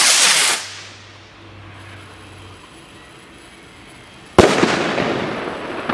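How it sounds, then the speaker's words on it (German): A Funke Goldfunken rocket firework bursts loudly and its rumble fades into a quiet stretch. A second sharp, loud bang follows, trailing into a long crackling decay, with no speech. "Ja, Freunde, richtig fette Raketen!"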